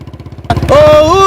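A motorcycle engine idles with a quick, pulsing putter, then revs up sharply into a loud, steady drone, close by.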